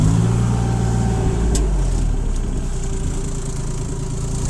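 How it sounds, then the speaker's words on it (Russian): A Japanese YB201UZ mini excavator engine runs steadily at a soft, even idle, a continuous low mechanical hum close by with no talking. "экскаваторчик этот работает помягче"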